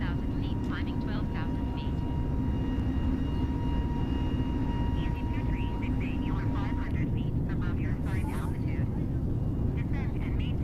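Airbus A320 engines climbing in Microsoft Flight Simulator 2020 on an EasyJet flight from Luton, with a steady cabin drone and faint chirping sounds over it.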